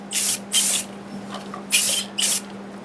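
Short bursts from a spray can lay a light finish coat on a segmented wood turning with purpleheart inlay, four hissing blasts in two pairs over a faint steady hum.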